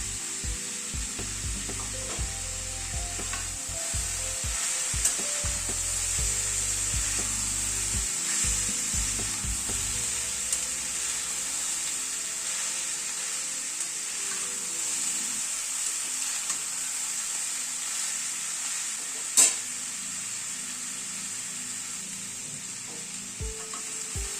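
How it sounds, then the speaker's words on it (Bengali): Mixed winter vegetables with capsicum, onion and peas frying in a wok, a steady sizzle running throughout with occasional stirring scrapes and a sharp clink, no talking. "সবজিগুলোকে একটু মিনিট 4-5 ধরে একটু ভাজা ভাজা করে নিলাম।"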